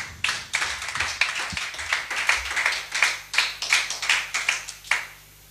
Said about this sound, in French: Acclamons la parole de notre Dieu.